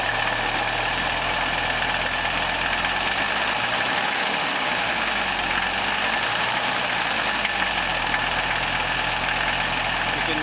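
A Mercedes turbodiesel engine idles during a fuel purge, a steady, loud, rumbling drone whose pitch wavers slightly as the idle is varied, heard close up with no speech.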